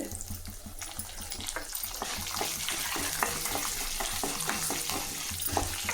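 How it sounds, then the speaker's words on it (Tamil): Urad dal and garlic fry in hot oil, a steady close sizzle with frequent scraping stirs as a spoon moves through the pan, no talking. "உளுத்தம் பருப்பு நல்லா சிவந்து வந்துருச்சுங்க இந்த டைமில் பூண்டு போட்டுங்க"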